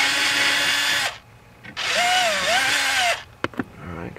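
A cordless power drill fitted with a socket spins screws out of a Chevy Impala's dash panel while the blend door actuator is being reached. Two loud, close whirring bursts are split by a short pause, then come a few sharp clicks and handling noises.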